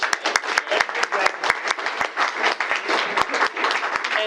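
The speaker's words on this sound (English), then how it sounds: "let's do one full round of applause for Jeff" A room full of people at a community board full-board meeting claps in a round of applause, dense and fairly close, with distinct sharp individual claps over a steady crackling mass that stays lively for several seconds.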